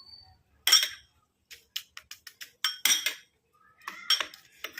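A spoon stirs juice in a bowl, giving sharp, irregular clinks and scrapes against the bowl in short bursts separated by brief silent gaps.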